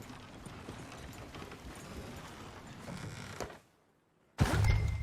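Hooves clip-clopping on horses in Red Dead Redemption 2, a steady clatter with creaking under it, then a brief near-silence before a loud burst of hoof and tack noise returns.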